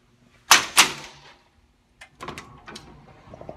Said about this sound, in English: The doors open automatically.